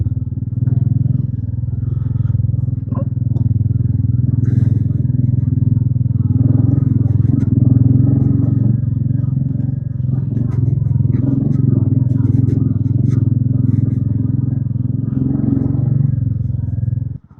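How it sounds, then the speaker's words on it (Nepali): A motorcycle engine drones continuously during an off-road ride, a loud, low, close rumble that holds steady for the whole stretch, with occasional clattering over rough ground. "बाइकको साउन्ड त"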